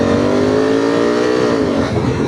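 A Honda CRF1000 Africa Twin with DCT gearbox pulls hard uphill, its twin engine droning loud and steady with clear harmonics that dip slightly near the end as it shifts.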